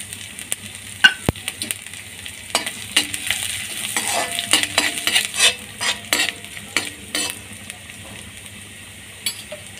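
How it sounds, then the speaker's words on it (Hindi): Finely chopped ginger and garlic added to hot oil with mustard seeds, sizzling and frying steadily while a spoon stirs and scrapes the pan, close and moderately loud with no talking. "अब ये जो अदरक लहसुन हमने बारीक चॉप किया था वो भी डाल देते हैं इसमें।"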